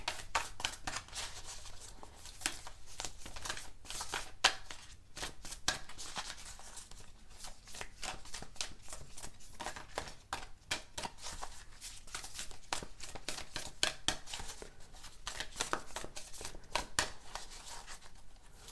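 Oracle cards are shuffled by hand in a continuous run of soft, rapid riffling and flicking, close and fairly quiet, with no voices.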